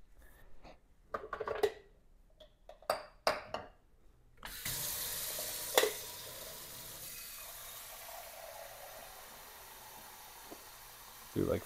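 Water running from a kitchen tap to fill the reservoir of a Mr. Coffee 5-cup mini coffee maker, a steady hiss that starts abruptly after a few clinks and handling sounds and flows continuously close by.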